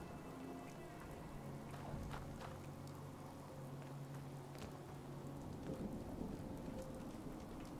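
Heavy, dense rain from a weather mod in Fallout 4 pours steadily with a low rumbling undertone like distant thunder, loud and continuous throughout with no talking.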